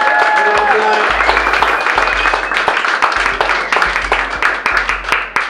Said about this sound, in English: can we get a round of applause for everyone that you're going to see tonight?